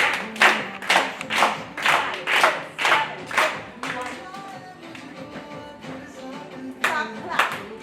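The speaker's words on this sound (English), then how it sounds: "Clap, clap." Children at a literature festival clap a rhythm together, a string of sharp, evenly spaced group claps that start steady and then come faster before a pause and a final few claps.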